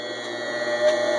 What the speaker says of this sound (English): listen for the squeal of failure